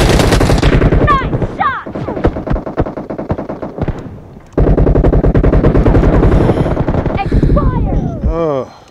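Loud, rapid automatic gunfire from a team deathmatch video game, fired in long sustained bursts with a brief lull midway and sharp whizzing sweeps near the end.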